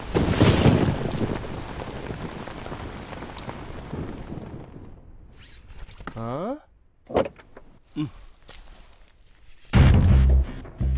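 Steady heavy rain pours in a Telugu film scene, a dense loud hiss for the first few seconds that then suddenly stops, followed by sparse thuds, a brief rising whistle-like tone and a few scattered sounds.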